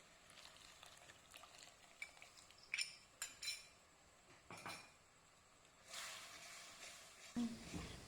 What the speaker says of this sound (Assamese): পিঠাগুড়িখিনি দি ধুনীয়াকৈ মিলাই লৈছোঁ।